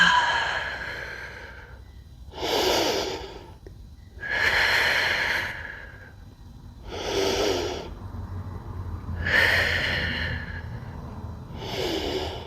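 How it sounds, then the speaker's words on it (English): Heavy, audible breaths during a yoga plank hold, about six long drawn inhales and exhales in a slow, even rhythm, close and alone. "and 5 rounds of breath"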